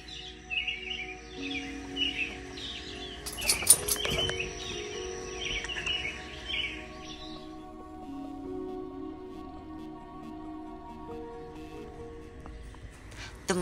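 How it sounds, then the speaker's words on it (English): Several birds chirp and trill in the background, fairly faint and steady, with a low ambient hum underneath and no talking. "I love to listen to the birds sing their morning song."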